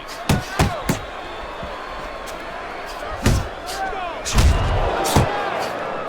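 Punches landing in an Xbox 360 boxing game, Mike Tyson against Reggie Stewart: several heavy thuds, some in quick pairs, over a steady arena crowd backdrop.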